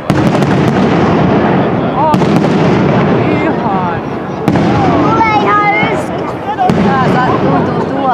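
Fireworks burst over the Turku Day celebration in 2016, a loud continuous barrage of booms and crackles with sharp reports every couple of seconds, while people talk nearby.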